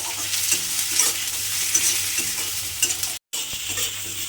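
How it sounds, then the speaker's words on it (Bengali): Onion, garlic and a small tomato stirred and fried in a pan, a continuous close sizzle with scraping stirring noises and one brief silent break. "একটা ছোট টমেটো দিয়ে আবারও কিন্তু একটু নেড়ে চেড়ে ভেজে নিতে হবে।"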